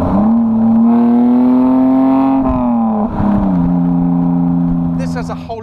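A BMW-based kit car's sports exhaust with a different back box revs loud and close, the engine note rising and holding, dipping briefly, then climbing again with a deep, throaty drone.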